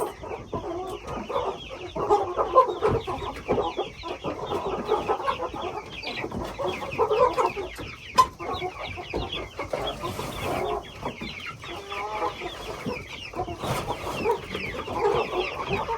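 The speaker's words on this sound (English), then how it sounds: "So, these are our meat birds, and they will be ready in 6 to 8 weeks." Meat chickens in a farm pen clucking continuously, many birds overlapping in a steady busy chatter, close and fairly loud throughout with no talking.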